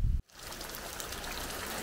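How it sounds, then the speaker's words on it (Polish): Steady rain falling outside, a dense even hiss of drops that continues evenly after a brief low thump and a moment of near silence at the start. "Zobaczcie, jaki tam deszcz jest."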